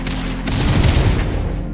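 Enemies bursting like fireworks in a pizza-themed video game, a dense cluster of rapid popping blasts and booms rolling together loudly for under two seconds.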